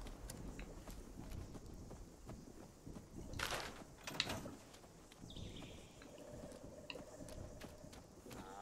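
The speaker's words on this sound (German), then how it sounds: "Ach, das ist die Kuh. Ich höre Schritte." Brahmin cow footsteps in Fallout 76: a soft, irregular clip-clop of hooves walking at mid distance over low ambient game noise, with a couple of brief sharper sounds and faint bird-like calls in the background.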